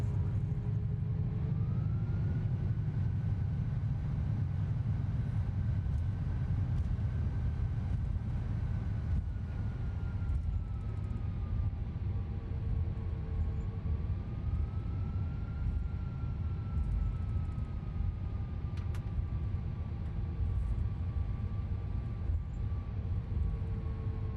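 A Boeing 737 airliner on its landing roll after arriving at New Haven, with the thrust reversers deployed and the engines roaring steadily and loudly under a rising and falling tonal whine inside the cabin.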